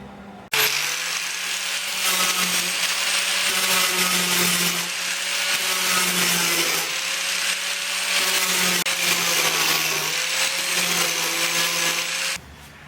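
Gasless flux-core welding along a steel parcel tray panel of a Ford XC Fairmont 351 under restoration, a loud, steady crackling hiss held continuously for about twelve seconds before cutting off abruptly.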